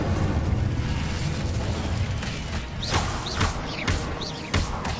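Incendio fire spell cast in Hogwarts Legacy, a burst of whooshing flame and crackling bursts over a loud rumbling game backdrop, with several quick sweeping magical swishes in succession.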